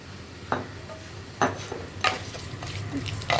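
Cut onion added to a hot pan of oil while cooking a cauliflower curry. The sizzle is soft and steady, broken by a few sharp clinks of a utensil against the pan at irregular intervals.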